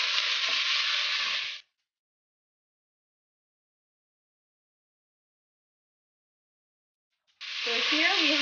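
Meat sizzles and fries in a hot pan for a Somali rice and meat dish, a loud, hissing burst at the start, silence, then the sizzle returning at the end.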